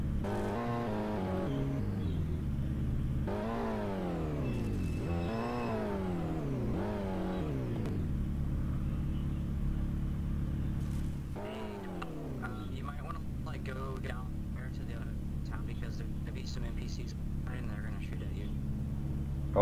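A car driving in Garry's Mod, its engine revving up and down in rising, falling sweeps through several gear changes, then dropping to a steadier hum under faint talk.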